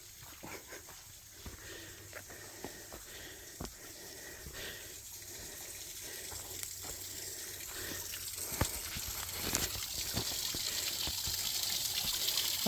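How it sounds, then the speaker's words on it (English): A tiny trailside waterfall gives off a steady, close splashing rush of water that swells slightly over time, with faint clicks and no talk. "There's a teeny tiny waterfall."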